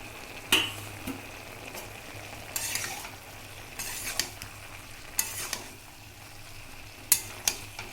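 Chopped green chillies fry in a pan with a low steady sizzle, broken by occasional sharp stirring scrapes and utensil clinks.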